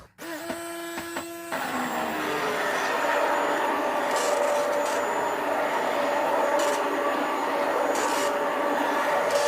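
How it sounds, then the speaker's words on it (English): A stick blender whirs continuously through thick hot process soap batter, a loud steady motorized drone with grinding texture after a short start-up, close by and without talk. "so we're going to go ahead and get this in here and start the stick blend"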